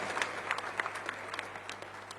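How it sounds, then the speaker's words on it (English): An audience at a gathering of citizens of Indian origin in London claps in a brief, fairly faint burst of scattered applause heard from a distance. "Please give yourself a hand."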